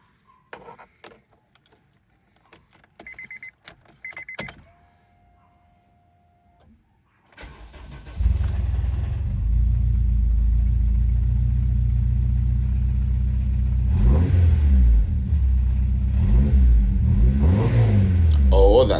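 A K20A engine fitted with individual throttle bodies is started after some brief clicks and a short whir, then catches and idles loud and close with a raspy exhaust, punctuated by several sharp revs.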